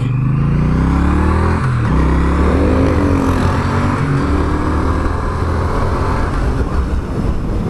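A 2022 Triumph Bonneville T100, a 900cc motorcycle, being ridden, its engine droning loud and steady throughout, with pitch rising and shifting as it pulls away, without any talk.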